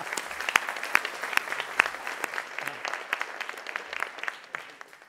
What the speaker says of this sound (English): Maybe that's worth a round of applause.